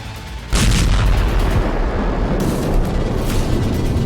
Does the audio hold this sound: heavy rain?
no